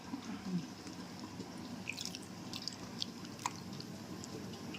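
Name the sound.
water being poured into a dish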